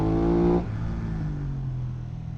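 An Aprilia RS660 motorcycle engine revs hard, its loud tone stepping down as a gear shift comes through and then pulling again with a steady drone.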